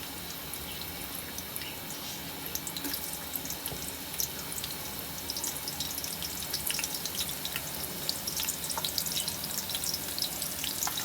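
Sliced onions fry in hot oil in a cooking pot for aloo pulao, a steady close crackling sizzle with scattered pops that grows slightly busier, and no talking.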